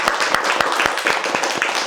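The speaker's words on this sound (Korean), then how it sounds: "여러분 저분에게 큰 박수 한번 부탁드립니다." An audience at a Korean Buddhist talk applauds loudly and steadily, a dense wash of many hands clapping with a few sharper individual claps standing out, continuous throughout with no talking.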